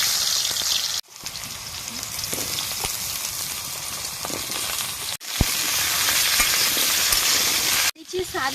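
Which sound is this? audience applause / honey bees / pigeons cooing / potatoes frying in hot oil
potatoes frying in hot oil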